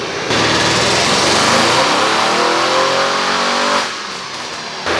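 A Stage 3 Audi RS7 running on E85 roars at full throttle on a dyno, revs climbing steadily for several seconds before the pull cuts off abruptly into a lower idle.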